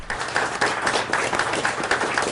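Co-workers applaud in a hospital hallway to honor a colleague walking past, their clapping a dense, steady wash with rhythmic pulses swelling every fraction of a second, close and continuous throughout.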